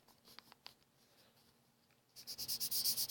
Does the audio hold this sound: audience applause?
no